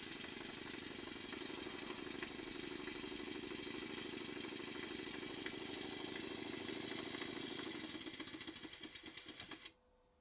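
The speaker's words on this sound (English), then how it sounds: "but I'll just run the engine for a while." A Stuart Models No. 10V model steam engine runs in a workshop with a fast, steady mechanical chuffing and ticking rhythm, close by, then slows and stops abruptly near the end.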